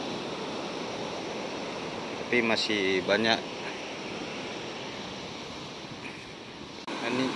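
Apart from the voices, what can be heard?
large ocean waves on beach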